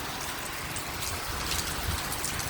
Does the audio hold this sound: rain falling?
yes